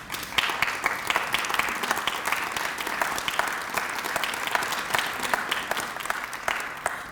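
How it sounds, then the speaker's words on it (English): An audience applauds college leadership at a scholarship breakfast, sustained dense clapping from a large room that stays steady and full throughout. "Can you please stand so we can give you a round of applause?"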